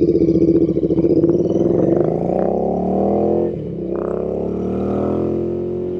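A Royal Enfield Interceptor INT 650 motorcycle fitted with an S&S Qualifier exhaust runs close by, its deep, throbbing exhaust pulsing as it revs and then settles into a steady rumble, with no talking.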